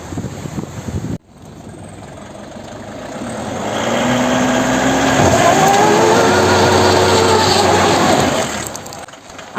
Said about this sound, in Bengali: গাড়ির চাকার আওয়াজ শুনে বুঝে গেছেন সেই চাকা কিন্তু খাদের মধ্যে ফেঁসে গেছিল